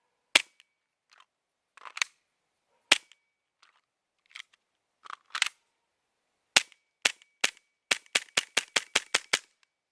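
A Cybergun FN Five-Seven airsoft pistol fires, sharp snapping shots heard close, first spaced singly, then a rapid string of about a dozen cracks at the end, with no talking.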